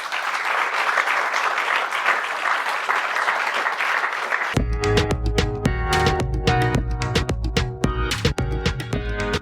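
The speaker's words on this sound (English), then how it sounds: "Big round of applause for them." Audience applause for a panel at an HSBC Innovation Banking event, a dense round of clapping that continues as loud music kicks in partway through and plays over it.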